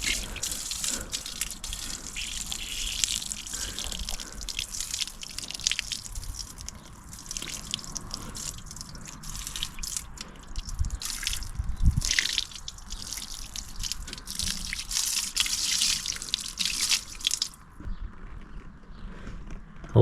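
Water poured from a bucket splashes and drips steadily over a Rays TE37 wheel being rinsed during cleaning, a continuous close wash of trickling and spattering that stops abruptly near the end.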